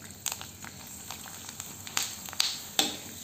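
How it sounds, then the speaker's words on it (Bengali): Ring finger snacks fry in hot oil with a soft steady sizzle, broken by sharp crackles and pops at irregular moments, close and fairly quiet. "এ মেয়ে বলল রিং ফিগার ভেজে দাও, তাই এটা ওকে ভেজে দিচ্ছি"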